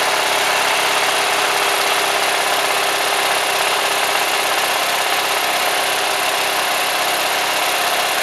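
A small homemade engine runs with its choke partly closed, giving a loud, steady drone with a fast, even pulse that holds unbroken for the whole stretch, with no voices.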